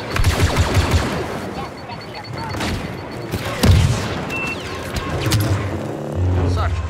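Gunfire in Star Wars Battlefront II rattles in dense bursts of blaster and machine-gun fire with booming impacts, loud and continuous across several seconds.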